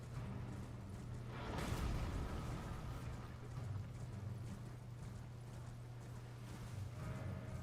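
Horse hooves clip-clopping in a video game, faint rhythmic thuds over a low steady hum, briefly louder near the start before settling into a quiet, even gait.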